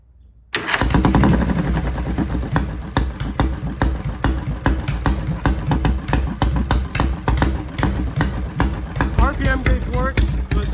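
A used racing lawn mower engine starts abruptly and settles into a rough, loud, close-up idle with an uneven, struggling beat, while someone talks over it.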